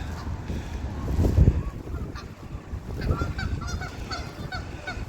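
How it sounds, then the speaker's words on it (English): Canada geese honk loudly at close range as they squabble with mallard ducks by a creek, with a strong burst of calls near the start and a string of repeated honks toward the end. "we got some Canadian geese. Looks like they're arguing with some mallard ducks."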